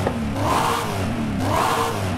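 A car engine revs hard in the video game Forza Horizon 5, its supercharger whine rising and falling twice over a loud, constant engine roar.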